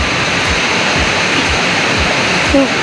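A small mini waterfall at Pupot, splashing water in a constant, loud, close rush of white noise with a faint pulsing rhythm, heard alone.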